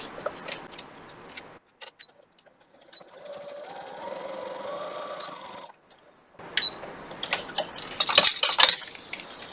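A sewing machine stitches quilt pieces in short bursts, whirring briefly with a rapid mechanical hum, pausing, then running again amid clicks and handling clatter.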